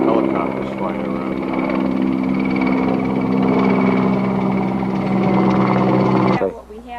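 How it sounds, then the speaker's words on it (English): Helicopters fly overhead near Chernyany, Belarus, a loud, steady, droning rotor and engine sound with a strong tonal hum that holds for several seconds, then cuts off abruptly near the end. "We sure have a lot of helicopters flying around."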